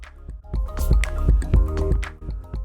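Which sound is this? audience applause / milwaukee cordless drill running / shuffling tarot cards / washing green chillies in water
washing green chillies in water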